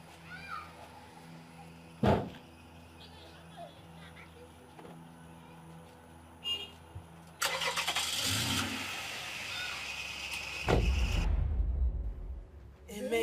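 A car engine cranks and catches, roaring up loudly after a few isolated knocks and thumps, then settling into a steady running rumble, with some speech around it.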